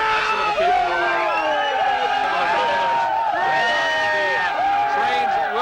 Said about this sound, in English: This is some of the crowd that is heading back from Times Square.